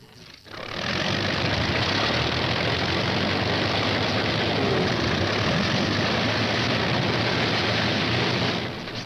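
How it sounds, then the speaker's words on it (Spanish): A P-51 Mustang fighter's single propeller engine drones steadily in flight, loud and sustained with a broad roar that swells in after a brief quiet start and holds constant. "Sus P-51, listos para el vuelo más largo, escoltarán a los bombarderos sobre Japón."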